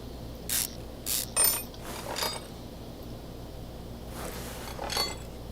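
Mechanic tools at work removing a drive axle in Car Mechanic Simulator 2021: several short, loud ratcheting and mechanical bursts in quick succession, followed by a quieter stretch and a couple more clanks, with a steady hum beneath and no speech.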